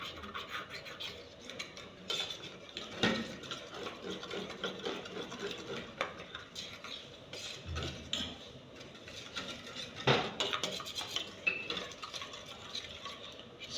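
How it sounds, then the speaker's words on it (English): Meat pie filling stirred in a pan, giving a quiet, continuous scraping and clinking of a utensil against the pan with a few sharper knocks, steady throughout. "So as I'm mixing it now, the meat pie filling is on fire."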